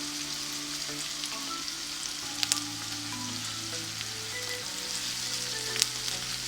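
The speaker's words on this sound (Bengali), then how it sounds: "পেঁয়াজ মরিচটা একটু লাল হতে থাকে ততক্ষণে আমি দিয়ে দিচ্ছি পাঁচফোড়ন এখানে" Panch phoron spices and onion with chili fry in hot oil, a steady soft sizzle with faint stirring clicks and no voices.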